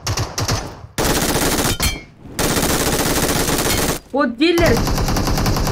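Gunfire in the video game PUBG: rapid automatic bursts crack close and loud in several separate volleys with brief gaps, while someone talks between them.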